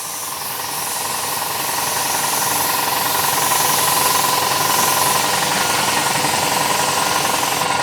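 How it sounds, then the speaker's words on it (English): An air compressor runs steadily for painting and priming a 1972 Super Beetle, giving a loud, continuous mechanical drone with hiss that rises slightly at the start and then holds constant. "Gotta have a compressor if you're gonna paint or prime."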